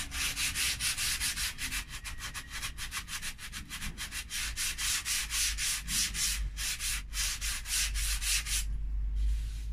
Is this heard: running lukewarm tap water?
no